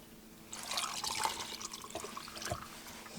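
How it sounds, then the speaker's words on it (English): White citrus sangria poured directly from a jar into a glass, a close continuous splashing liquid stream lasting a few seconds, with a small plop near the end. "I'm going to pour directly from my jar."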